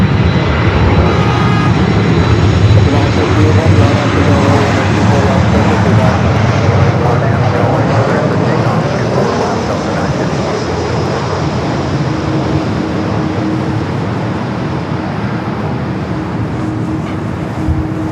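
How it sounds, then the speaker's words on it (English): A Delta Airbus A330 jet at LAX sends up a loud, steady engine roar that fills the scene throughout, with distant airport and traffic noise mixed in. "So I'm going to let that Delta A330 go first before British crosses over."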